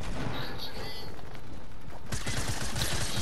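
SMG gunfire in the Fortnite video game, rapid bursts of shots with mechanical clatter, fairly faint in the game mix, intensifying in the last second.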